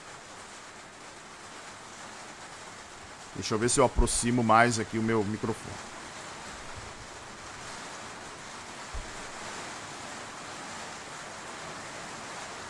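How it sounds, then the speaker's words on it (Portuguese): Heavy rain pours outside, a steady, dense broadband hiss running the whole time, with a person talking briefly near the microphone early on. "Barulhinho da chuva, começando"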